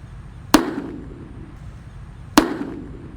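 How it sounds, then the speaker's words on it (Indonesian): Two Gledek firecrackers set off inside a hole in the ground go off as separate sharp, loud bangs, each with a short muffled rumble trailing into quiet. "Seperti itu suaranya mercon Gledek di dalam tanah."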